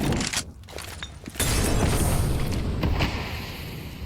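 Grenades go off during a Counter-Strike 2 match on the Vertigo map at IEM Katowice 2024: a sharp crack near the start, then a loud, sustained roaring boom that slowly tails off, with no one talking.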